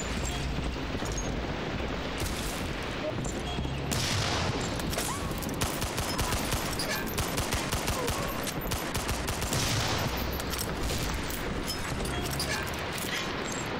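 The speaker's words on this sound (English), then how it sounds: "I see this guy shooting at me." Continuous dense gunfire in the World War II shooter Medal of Honor Allied Assault, Brittany mission, crackles as rapid overlapping shots and machine-gun bursts, loud and unbroken, with brief louder blasts mixed in.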